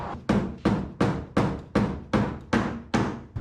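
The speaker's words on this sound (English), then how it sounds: "I got a hammer." Hammer blows ring out on a stuck part of an old U-Haul truck being converted into a work truck: nine loud, evenly spaced metallic strikes in steady rhythm, close by and with no talking.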